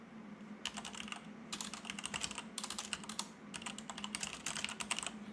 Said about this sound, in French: j'arrive plus à écrire au clavier.